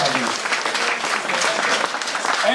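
A crowd claps steadily at a British Blues Award presentation. The clapping is dense and even, fills the room and continues throughout.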